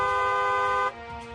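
Car horn honking in one long, loud, steady blast that cuts off abruptly, followed by fainter traffic noise.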